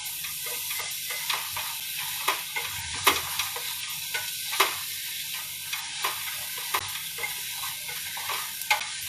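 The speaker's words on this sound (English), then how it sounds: "it will keep sizzling and it will keep cooking" Mushrooms for risotto, seasoned with a little salt, sizzle steadily in a pot. A spoon scrapes and stirs at a regular rhythm about once a second, close but fairly quiet.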